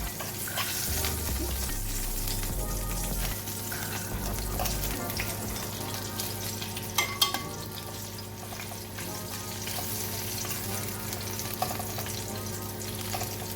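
Jackfruit nuggets fry in a pan with a steady, close sizzle and some stirring and scraping, plus a couple of sharp clacks midway. There is no talk.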